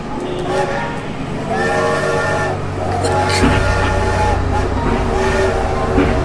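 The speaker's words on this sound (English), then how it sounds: "I can't stop the train!" A train rumbles along, with a deeper low rumble rising partway through, while voices call out over it.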